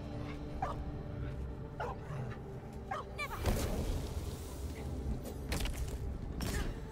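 A dog in the video game Neva gives several short whimpering yelps and then louder barks over a low ambient rumble, with a burst of noise midway.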